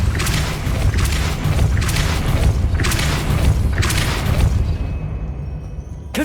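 Depulso spell cast in Hogwarts Legacy, a loud game soundscape of repeated deep booming thrusts, about four heavy bursts in a row over a rumbling bed, fading at the end.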